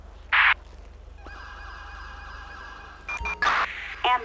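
Ambulance siren in the GTA 5 police game, wailing tones sweeping up and down at moderate distance with short bursts of radio chatter and beeps, over a low steady engine hum.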